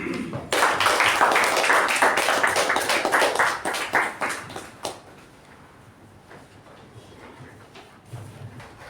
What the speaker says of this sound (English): With a huge round of applause, please welcome Toastmaster